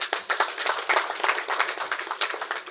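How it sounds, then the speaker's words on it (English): An audience at a Gambian TVET validation meeting claps in a dense, close burst of sharp hand claps, lively and continuous for a few seconds. "I think it deserves another round of applause."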